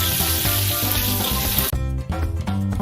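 Crispy battered chicken frying in hot oil: a loud, close, continuous sizzle and crackle that dips abruptly as the pieces are lifted, then resumes more sparsely, with no talking.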